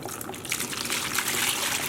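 Tap water runs steadily into a basin being filled for dyeing wool and cotton yarn, a continuous close gushing splash that builds slightly in strength and carries on alone.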